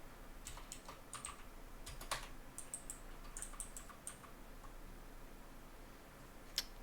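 Rapid irregular typing on a computer keyboard while coding, crisp close clicks in short bursts with brief pauses and a single sharper key strike near the end, no voices.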